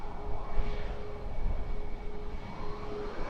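Ryanair Boeing 737 MAX 8-200 jet at Edinburgh Airport gives off a steady, fairly distant engine rumble with a faint whine, brief and unbroken, with no voices over it.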